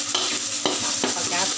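Blended curry paste ingredients stir-fried with lemongrass in a pan for home-cooked curry chicken give a steady sizzle, punctuated by several scraping stirs of the spatula close by, with no voices.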